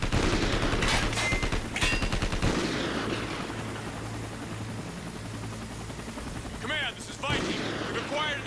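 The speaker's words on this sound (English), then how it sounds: "Get to the chopper! Get to the chopper now!" Helicopter rotor thumping alongside bursts of automatic gunfire in the Call of Duty Ghosts campaign on Xbox 360, loud and dense battle noise with a low steady hum beneath and sharp shots scattered throughout.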